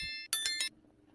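Bright notification bell sound effect: a short chime-like ding with shimmering high overtones, struck once and ringing briefly before fading into near silence, clear and close.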